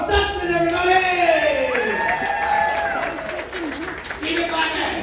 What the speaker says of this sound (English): Keep it clapping!